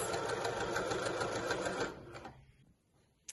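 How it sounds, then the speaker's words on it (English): A sewing machine runs steadily, its needle rattling in a fast even rhythm, then stops and the room falls quiet with a faint click. "it's almost as if I've drawn a line on my fabric using my thread and my sewing machine"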